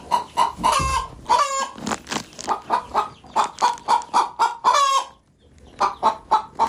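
Chickens cluck steadily in a quick, repeated rhythm, with a rooster crowing loudly twice over the flock; no one speaks.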